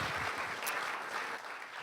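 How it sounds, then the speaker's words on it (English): Audience applause for city councillors at a Persian New Year (Nowruz) celebration: steady, fairly faint clapping from a crowd filling the whole moment, without talk over it. "Let's have a round of applause for our councilors."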